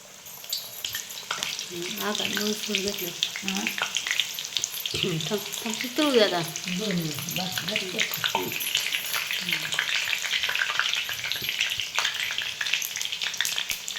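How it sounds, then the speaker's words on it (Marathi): Spinach fritters coated in gram flour batter deep-frying in hot oil in a kadai, a continuous bubbling sizzle up close, with a voice speaking briefly over it midway. "आता बेसन पीठ लावून तळायचं"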